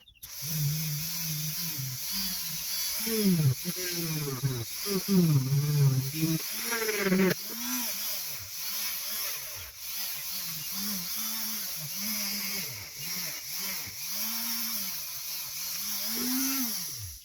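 A rotary tool buffs an antique French fishing reel over 70 years old with 320 grit, giving a steady close whine that wavers in pitch as the bit presses and lifts, running continuously with no talk.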